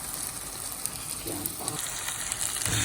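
Masala fries in a pan before potato slices go in for aloo katli, making a soft, steady sizzle with light stirring scrapes, fairly faint and close throughout.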